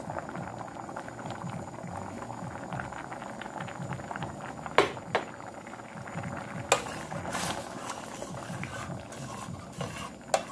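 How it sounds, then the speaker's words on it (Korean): Store-bought tomato sauce is stirred into spaghetti in a pot, giving a soft bubbling, wet churn that runs throughout, with a few sharp spoon knocks against the rim. "슈퍼에서 산 토마토 소스를 같이"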